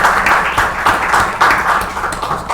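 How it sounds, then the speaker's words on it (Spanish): Brief applause from the audience at the close of a conference on the export industrialization model; clapping comes in uneven pulses, moderately loud throughout. "Aplausos."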